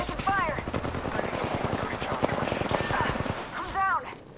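Rapid machine-gun fire rattles in a Call of Duty-style shooter, a fast, close stream of shots with brief pauses, mixed with game voice callouts and a chirping tone near the start and end.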